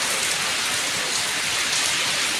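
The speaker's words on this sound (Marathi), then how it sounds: "तर पाऊस बघा काय जोरदार लागता आणि गाजता पण तेवढाच वीज पण तेवढीच चमकता" Heavy monsoon rain in the Konkan pours down in a dense, steady roar of broadband hiss, loud and unbroken throughout, with no clear thunderclap standing out.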